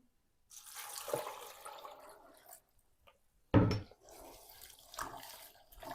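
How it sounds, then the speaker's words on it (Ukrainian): Water from a tap is poured over freshly picked currants to rinse them, a close splashing stream that starts, pauses, then resumes with a sharp gush and trickling. "Тому спочатку заливаю смородину водою."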